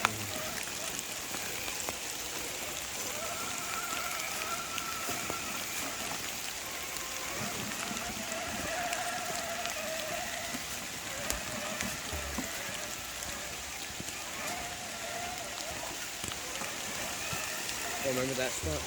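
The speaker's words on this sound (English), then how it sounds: "It's raining out." Rain falling during an RC trail run with an Axial crawler, a continuous hiss and patter under a background hum, while people talk intermittently throughout.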